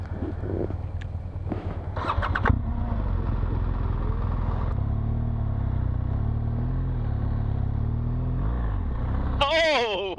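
A KTM motorcycle engine drones steadily on a dirt trail with water crossings and sand, revving and shifting pitch, while people talk over it throughout.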